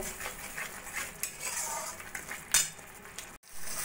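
A spice masala with coriander powder is stirred in a pan over a low flame for a fish curry. Close metallic scrapes and light clinks of a utensil against the pan sit over a soft background hiss.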